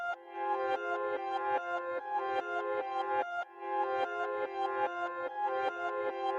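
A reversed, pitched-down synth melody for a dark trap beat repeats in a steady looping pattern, with swelling notes that fade in and cut off sharply, clear and alone without any voice.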